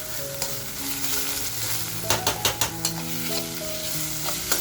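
Kharda masala fries in a pan with a constant low sizzle, broken midway by a quick run of sharp spoon scrapes and clacks against the metal as it is stirred, close and clear with no talk.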